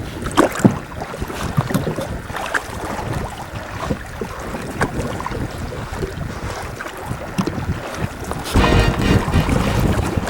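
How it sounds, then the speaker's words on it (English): A strong headwind roars across a loaded canoe on a choppy reservoir, with steady buffeting wind noise, water sloshing against the hull and a louder gust near the end. "We're still bucking that nasty headwind"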